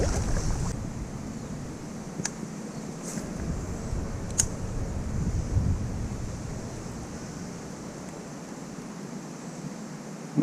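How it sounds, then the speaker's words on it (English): Steady wind rushes across open water on a peacock bass fishing outing, a broad continuous hiss with low buffeting gusts and light surf-like wash, with a few brief sharp clicks and no speech. "Wind's gonna be a little bit of an issue."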